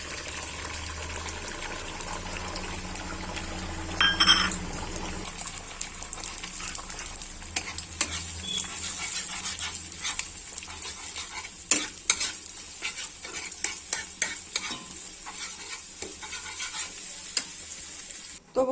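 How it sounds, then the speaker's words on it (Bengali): Beaten egg with salt and turmeric fries in hot oil in a wok, a steady soft sizzle broken by scraping and stirring clatters from a utensil, all fairly quiet and without voices. "তেলটা গরম হয়ে গিয়েছে, আমি ডিমটা কড়াইয়ে দিয়ে দেবো।"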